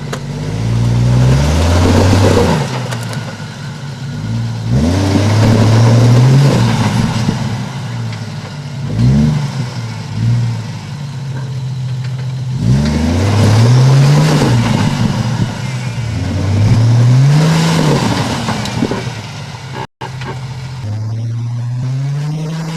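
A 4WD vehicle climbs a boulder track, its engine revving hard in repeated surges and rising whines with brief dips between pushes, loud and close throughout, with no talk.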